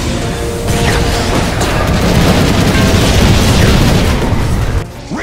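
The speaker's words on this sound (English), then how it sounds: "Radiant's middle tower has fallen!" A tower collapsing in the Dota 2 video game, a loud sustained rumbling crash of debris and explosions that cuts off sharply near the end.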